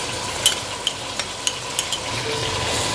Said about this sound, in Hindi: चिकन को थोड़ा भूनने के बाद फिर मैं इसमें लहसुन अदरक का पेस्ट डाल दूँगी।